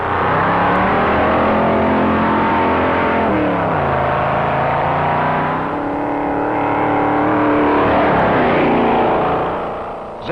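Pontiac race car tuned by John Zink's crew at the 1957 Daytona Beach race, a loud sustained engine roar whose pitch shifts as the car speeds by, fading slightly at the end.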